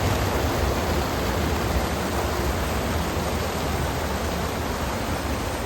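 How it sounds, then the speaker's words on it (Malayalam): Water pouring over rock at a waterfall beside a Shiva temple, a loud, constant, close roar of rushing water with no other sounds. "പാറയുടെ മുകളിലൂടെയാണ് ഈ വെള്ളം ഒഴുകിക്കൊണ്ടിരിക്കുന്നത്."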